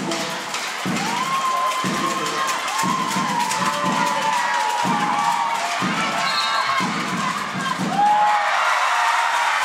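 A home crowd at a women's volleyball match cheers and shouts loudly in repeated surges, with a whistle-like tone and a commentator's voice coming and going under the noise.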